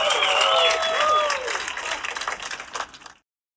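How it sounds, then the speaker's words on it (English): Podcast show audience breaking into applause and clapping, loud and dense, with voices over the start before it turns into scattered claps and cuts off abruptly. "Swipe people, clap it up one time for the gatekeeper."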